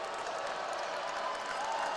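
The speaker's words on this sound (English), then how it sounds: "Loud in front of me here is the West Muskingum fans clapping and showing their support." West Muskingum basketball fans clapping steadily at a Division 5 regional game against Ironton, a dense, continuous wash of applause from a nearby crowd with no clear individual claps standing out.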